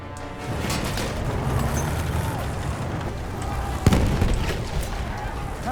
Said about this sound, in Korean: 건드리면은 폭발해요